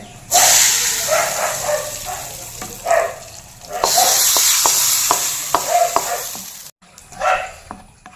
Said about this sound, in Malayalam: കുറച്ച് വെളിച്ചെണ്ണ, കുറച്ച് കടുക്. ഇവിടെ വറവ് റെഡി ആയിട്ടുണ്ട്.